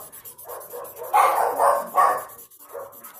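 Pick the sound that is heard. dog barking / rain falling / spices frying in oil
dog barking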